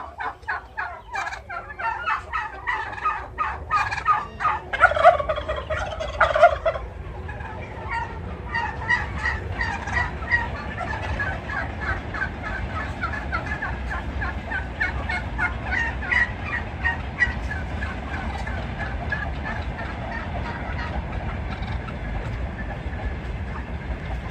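Domestic turkeys in a home-raised flock gobble during their courtship dance, a run of loud, bubbling calls up close that keeps going over a steady rustling backdrop.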